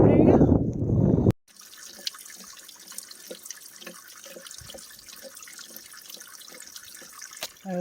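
A small creek running across the Appalachian Trail trickles and babbles steadily at close range after a brief burst of loud rustling at the start, the flow staying soft and continuous throughout.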